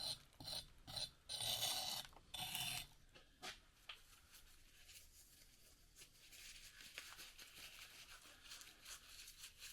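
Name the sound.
trowel scraping off concrete from a pot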